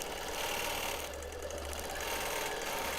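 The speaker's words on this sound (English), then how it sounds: "my bobbin is really rattling under there" A sewing machine running during free motion quilting, its partially used bobbin rattling underneath; a steady, continuous mechanical whir with a low buzzing hum and fast rattle, close and uninterrupted, no voices.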